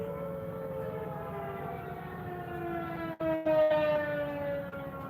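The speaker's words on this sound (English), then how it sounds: "Them are the tornado sirens." Outdoor tornado warning sirens wail continuously in long, steady tones with a slight pitch drift, heard from a distance and fairly faint, with a brief dropout near the middle.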